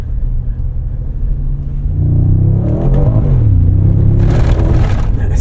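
A 2025 Mercedes-AMG G63 engine accelerating while driving, a steady low rumble that rises and swells as the revs climb, heard from inside the cabin with no talk.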